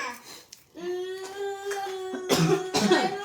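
A close, harsh cough bursts out after a brief pause, with a second rougher cough following near the end.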